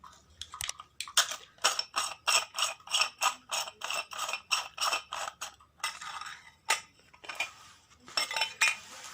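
An LED bulb casing is pried and twisted open for repair, a run of rhythmic plastic clicks and ratcheting creaks, close and crisp, in quick regular pulses with a short pause near the end.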